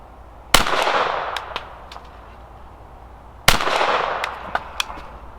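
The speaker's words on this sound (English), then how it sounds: "Alright, probably shooting faster than I should." Two loud, sharp .22 rimfire pistol shots from a Sig P322 ring out at a shooting range about three seconds apart, each followed by a short decaying echo and faint clinks of ejected brass.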